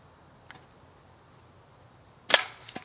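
A slingshot shot at a target outdoors: a sharp loud crack late on, followed by a smaller snap, after a quiet stretch with faint insect-like chirping.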